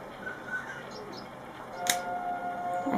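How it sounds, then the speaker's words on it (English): A Fisher-Price baby mobile plays a birdsong setting with chirps over a steady wave-like hiss, the tweets thin and scattered, with one brighter burst partway through. "This one is waves with birds chirping."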